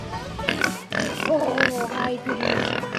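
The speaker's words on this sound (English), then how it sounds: "We have some pigs." Pigs on a farm grunt and oink in short bursts at close range, with a person talking over the animal sounds.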